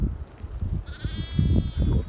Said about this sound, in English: So just brought a few more ewes and lambs down today to Summerhill.